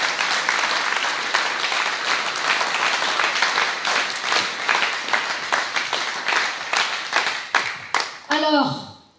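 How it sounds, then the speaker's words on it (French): A crowd at a political rally in Brest applauds two women, with sustained clapping and scattered distinct hand claps building into a rhythmic pattern before fading, with a brief voice or tone emerging at the end. "je pense qu'on peut les applaudir"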